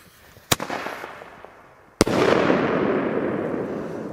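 Two sharp, loud salute bangs from small 20 mm single-shot firework tubes go off about a second and a half apart, each followed by a long, rushing echo that slowly fades.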